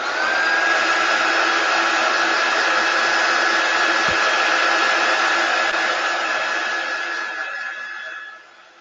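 A hair dryer runs steadily, loud and close, drying chalk paste on a box frame ornament, with a constant whirring hum before tapering off near the end.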